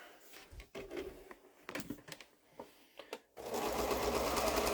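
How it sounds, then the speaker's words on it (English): Sewing machine stitching quilt pieces corner to corner, first a run of short clicks and bumps as fabric is positioned, then a steady close whirring hum of continuous stitching for the last second and a half. "And then I sew it from this corner"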